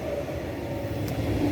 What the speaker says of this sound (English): Ah, that's a train.